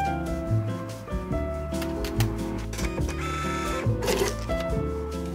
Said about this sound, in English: we're going to have to do a little test print